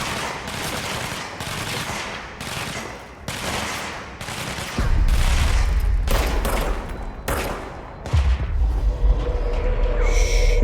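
Sustained video-game gunfire from Control played on Xbox Series X, dense volleys of automatic shots, loud and close, with heavier booming bursts in the second half and no talking.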